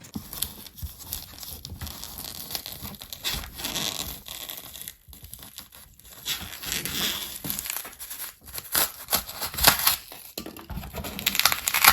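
Cork sheet and the polystyrene board under it being cut through and pulled free where it was glued down, a close run of crunching, crinkling and scraping rasps that keeps building louder, with no voices.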